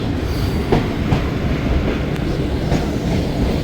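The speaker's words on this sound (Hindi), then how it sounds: "ट्रेन इंटर हो रही है नवाबों के शहर भावलपुर" Shalimar or Pakistan Express passenger train pulling into Bahawalpur station, a steady rumble of rolling rail cars with faint clickety-clack and occasional metallic squeals, heard up close and without speech.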